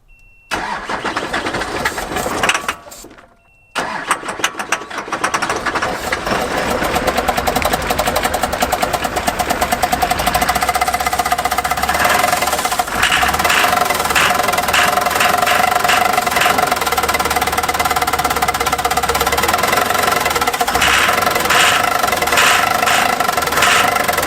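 A battle-damaged Hummer, shot through by thousands of rounds and down one dead cylinder, cranks on the starter after a brief quiet gap, then catches and runs loud and rough, its uneven idle lumping and knocking close by.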